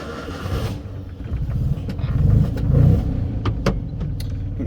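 Classic Fiat 500F engine with a non-synchro gearbox pulling away in first gear, a close, steady rumble that swells and rises as the car accelerates, with a few light clicks and rattles on top.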